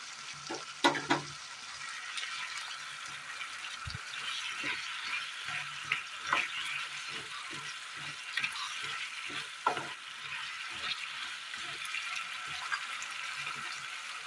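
Curry leaves frying in a pan of roast masala for an egg curry give a soft, steady sizzle with scattered small pops and crackles spread across the whole stretch.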